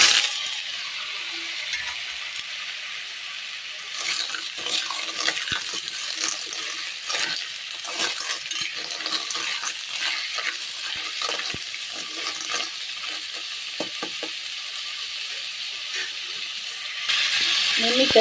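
Onions frying and stirred in a pan, a steady soft sizzle with scraping and clinking from the spoon, moderately quiet and continuous, with faint speech at times.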